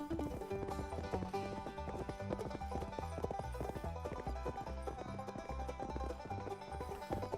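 Game horse hooves clip-clop in a steady, rhythmic trot in Cowboy Life Simulator, set against continuous background music at a moderate level, with no voices.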